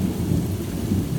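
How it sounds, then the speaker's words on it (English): Deep, continuous rumbling thunder from a severe thunderstorm, a loud low roll that swells and ebbs steadily with rain noise mixed in and no voices. "So then that's basically what frightens me, the thunder."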